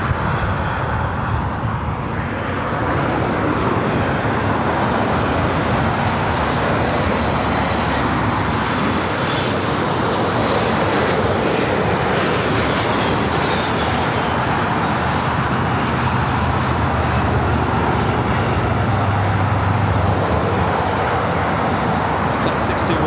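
At LAX an airliner, likely an A330neo, roars on the runway as it takes off. A loud, sustained broadband rumble builds under traffic noise and a talking voice.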